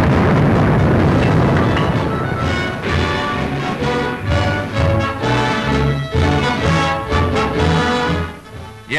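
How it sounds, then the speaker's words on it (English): Depth charges exploding from destroyers of a flotilla on Mediterranean manoeuvres, heard as loud, booming blasts and rumbling bursts rolling one after another over a continuous heavy roar, with no talk. "Excellent practice was put in with torpedoes, guns, and depth charges."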